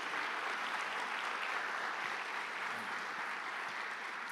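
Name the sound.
church congregation applause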